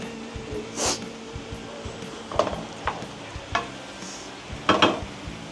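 Leftover grilled squid and zucchini sizzle steadily in a pan on the stove, with a utensil stirring and scraping against the metal at close range.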